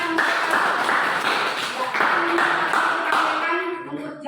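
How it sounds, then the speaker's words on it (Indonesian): Classroom clapping from students, a fairly loud spread of hand claps with tonal pings and a voice mixed in, fading toward the end. "Ya, tepuk tangan."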